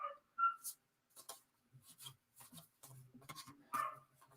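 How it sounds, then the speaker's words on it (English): A dog barks outdoors, several short yaps and whines spread irregularly across a few seconds, fairly faint and distant with quiet gaps between. "Got a fucking dog out here."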